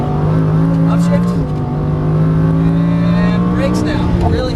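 A race car's engine screams at full throttle, its pitch climbing and then dropping sharply at an upshift before rising again, loud and close in the cabin, with a voice talking over it.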